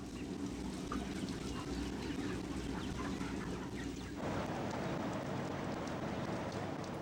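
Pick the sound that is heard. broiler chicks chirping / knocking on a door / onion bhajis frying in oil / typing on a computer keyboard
broiler chicks chirping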